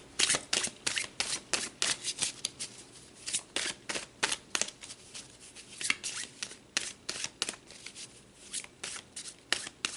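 Tarot cards shuffled by hand, close and clear, a run of quick crisp riffling bursts repeating in an uneven rhythm with short pauses between, no talk.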